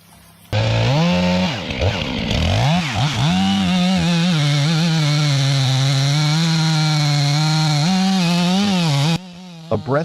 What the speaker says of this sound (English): is being brought down piece by piece under the roar of a chainsaw